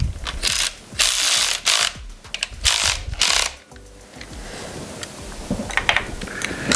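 Ratchet wrench tightening a bolt during a Ford 5.4 2V timing chain replacement, loud rapid clicking bursts repeating in several runs, then softer scattered clicks of parts being handled nearby.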